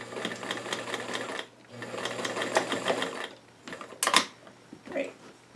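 A sewing machine stitches a narrow seam on a pocket for doll-sized five-pocket jeans in steady, fast mechanical runs, pausing briefly between bursts, close and clear with a small clatter near the end.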